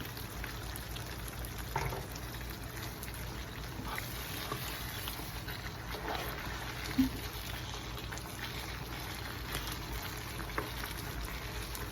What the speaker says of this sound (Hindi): ये मैं बैगन डाल दूँ।